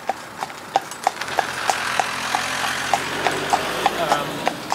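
A working horse in harness walks along, its hooves clip-clopping in a steady, evenly spaced rhythm over a low background rumble.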